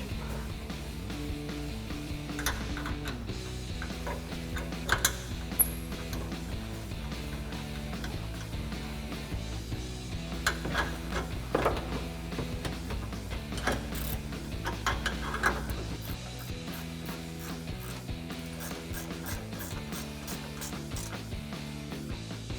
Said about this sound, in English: tighten it up with our 13 millimeter ratcheting wrench